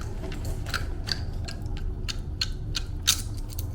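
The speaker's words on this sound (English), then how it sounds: "Crunch. Snails are so good." A tegu lizard crunches a snail: sharp, irregular clicks and cracks of shell breaking, fairly faint over a low background hum, with no voices.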